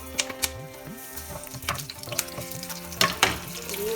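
Nigella seeds and split green chilies frying in oil in a pan, a light crackle broken by sharp pops and spatters at close range, with some clinks of a utensil and no talking.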